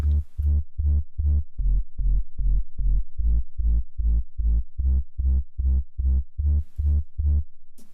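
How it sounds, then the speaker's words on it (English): A deep sub bass from a Logic stock synthesizer plugin pulses in a steady run of about twenty even, short notes, clean and isolated with nothing else playing. "And the sub on its own sounds like this."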